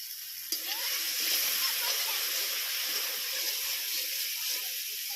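Water is poured into a hot pan of duck egg curry and hits the oil with a sudden splash, then a steady loud sizzle and bubbling hiss that lasts to the end.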